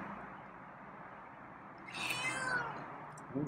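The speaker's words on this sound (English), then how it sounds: "Oh, it's a meow." A single soft meow from a feral cat rises out of a quiet, hissy room, followed by a faint rustle.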